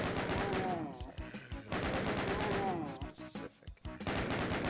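Rapid repeated pistol fire from a retro video game, loud and tightly spaced, coming in bursts broken by short lulls.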